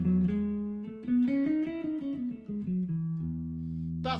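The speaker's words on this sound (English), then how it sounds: "that is the sound of the Ionion, or the major" A guitar plays a melodic major-mode line built from small two-note shapes, with sustained notes and a bright, happy quality, ending on a held low tone and a brief bright scrape. No voices.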